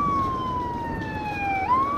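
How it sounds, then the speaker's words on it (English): An ambulance siren wails steadily in a slowly falling tone, then sweeps back up, loud and fairly close over passing road noise. "It was an ambulance."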